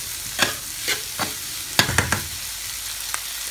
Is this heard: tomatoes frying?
yes